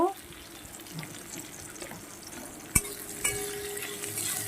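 Chopped onion and a whole garlic clove fry in oil for a pointed gourd mash, giving a soft, steady sizzle with a sharp utensil clink midway and a few faint stirring scrapes.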